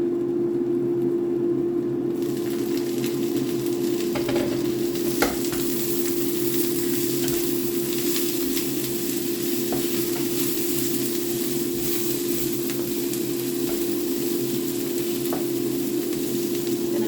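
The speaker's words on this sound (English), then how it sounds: "I'm going to give it another stir." Cabbage and bacon fry in a pan and are stirred, giving a steady, close, loud sizzle that runs the whole time with a few faint scrapes and clicks mixed in, and no voices.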